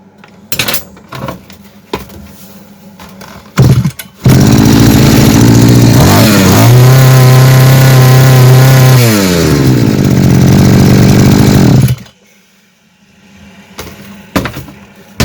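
A Kitprom petrol brush cutter with a new carburetor, a small two-stroke engine that starts after a few clatters and then roars loud and close for about eight seconds, its revs climbing and falling before it cuts out.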